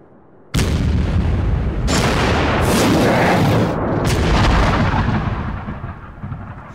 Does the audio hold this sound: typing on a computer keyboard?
no